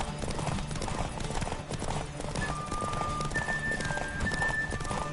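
Horse galloping in a race in the video game The Witcher 3, rapid rhythmic hoofbeats close and steady throughout, mixed with game noise and a brief whinny.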